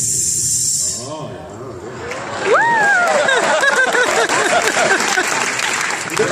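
A live comedy-show performer vocally imitates a shaken beer can being opened, making a sustained hissing spray sound that swells into loud audience applause and laughter, with a brief spoken exclamation.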